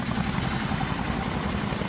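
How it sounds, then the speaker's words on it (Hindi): A Chinook helicopter hauls a heavy generator for relief work in Uttarakhand, giving a loud, steady rotor and engine roar with a dense low thrum and no break in its drone. "ये चिनूक हेलीकॉप्टर जो कि भारी जनरेटर को ले जाता हुआ"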